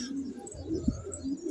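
Soft, low pigeon coos murmur steadily with a brief louder coo in the middle, somewhat distant and muffled.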